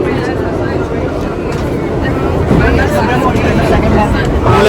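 A loud, steady rumble of a New York subway train in motion fills the crowded car, a continuous rolling roar with voices faintly mixed underneath.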